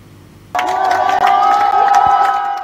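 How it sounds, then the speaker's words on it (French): A crowd of residents in Libreville, Gabon, cheering and chanting for soldiers after a coup, a loud sustained roar of many voices with sharp shouts rising above it, beginning abruptly. "certains d'entre eux scandaient la libération ou encore Bongo dehors"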